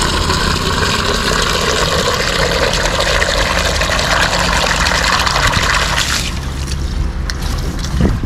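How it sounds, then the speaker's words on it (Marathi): A motor drives a water pump to water trees beside a road, including a tamarind tree, with a loud, steady droning hum that runs unbroken from start to finish and eases slightly near the end, with no talking. "मोटर चालू केली आहे"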